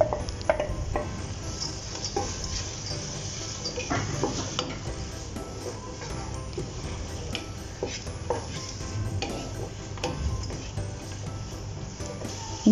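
Pieces of fried elephant foot yam are stirred into pickle masala in a pan for chena achar, a soft continuous sizzle with scattered spoon scrapes and light clinks of metal, no voices.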